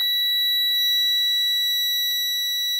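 A cash register's fire service alarm sounds as a continuous, piercing high electronic tone, loud and unbroken, with a couple of faint clicks in the background.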